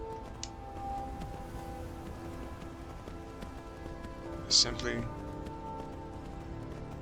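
In Skyrim, a horse's hooves strike the ground as it runs across rough, steep terrain, making soft rhythmic thuds beneath someone speaking.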